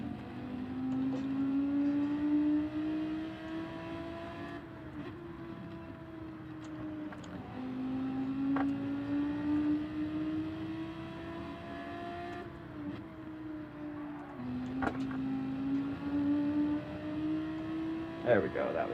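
Race car engine in Gran Turismo 7 at Monza, a steady drone that climbs through the gears with repeated sharp drops as the driver downshifts, heard under a person talking.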